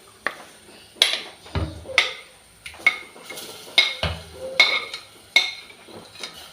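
Ground beetroot paste is scraped from a bowl into a clay cooking pot, producing a series of irregular spoon clinks and knocks against earthenware, close and distinct in a quiet kitchen.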